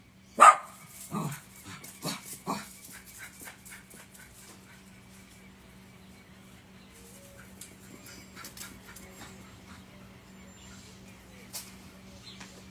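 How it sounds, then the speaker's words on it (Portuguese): A dog barks indoors during a religious talk: a handful of sharp barks close together at the start, then quieter scattered yips and whimpers trailing off over low background hum. "O cachorro tá dando trabalho aqui, gente."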